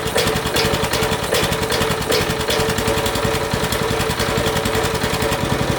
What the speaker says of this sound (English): Idling perfect, nice and slow.